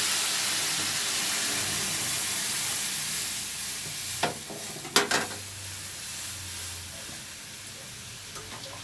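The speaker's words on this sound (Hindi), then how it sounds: "तो गाइस कड़ी मैंने छौंक दी है।" Steady sizzling of spices tempering in hot oil for a kadhi (Indian yogurt curry), with a few sharp crackles and pops midway and no talking.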